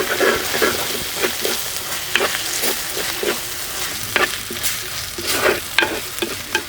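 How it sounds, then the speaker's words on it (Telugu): A spoon scrapes and stirs ginger garlic paste with fried onions in a sizzling pan for gongura egg curry, the strokes coming in a steady repeated rhythm over a constant close frying hiss. "ఉల్లిపాయలు ఈ మాత్రం వేగాక 2 చెంచాలు అల్లం వెల్లుల్లిపాయ పేస్ట్ వేసుకుని పచ్చివాసన పోయే వరకు బాగా కలుపుకోవాలి"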